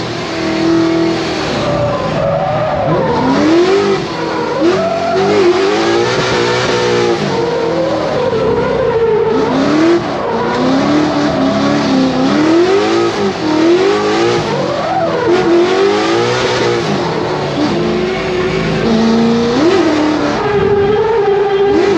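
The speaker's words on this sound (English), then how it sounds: "So that's Vaughn's car." A Ford Mustang drift car at a motorsport festival revs hard and continuously, engine pitch swinging up and down as tires skid and squeal, loud and close throughout with no talk.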